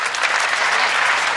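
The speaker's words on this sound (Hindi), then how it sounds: "तालियां एक बार जोरदार, वाह वाह वाह।" Loud, dense audience applause at a Hindi comedic poetry gathering, steady clapping filling the whole moment close to the microphone.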